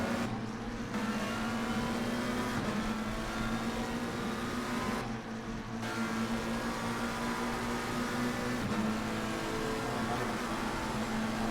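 Three McLaren GT3 race cars in a sim racing game drone on steadily together, a continuous high-pitched engine whine with shifting pitch, briefly dipping during gear changes.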